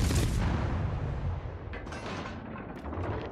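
Naval guns firing at an enemy ship in a video game, a heavy booming blast with a long rumbling decay and a few sharper secondary cracks following, loud and dense.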